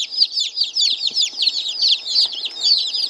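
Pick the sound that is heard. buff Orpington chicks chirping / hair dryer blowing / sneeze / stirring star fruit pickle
buff Orpington chicks chirping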